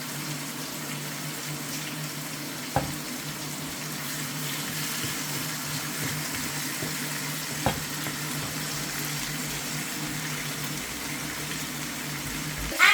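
Thin-cut beef ribs sizzle steadily as they brown in a hot pan, a continuous close frying hiss with a couple of faint clicks and no talk.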